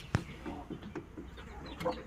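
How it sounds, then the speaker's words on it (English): Chickens in a newly built coop give soft, scattered clucks close by, with a sharp knock at the start and faint background noise throughout. "This is the chicken coop my husband built yesterday."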